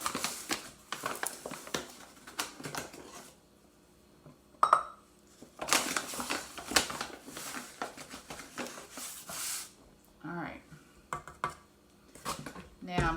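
Dough for pepperoni rolls is mixed with flour in a bowl, making repeated close scraping, clinking and patting strokes against the bowl in uneven bursts with brief pauses.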